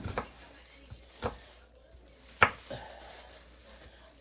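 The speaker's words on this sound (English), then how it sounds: "cut up our garlic cloves" Garlic cloves being sliced with a knife on a cutting board: a few sparse, sharp cuts spread out, one crisp louder chop near the middle, over a quiet kitchen background.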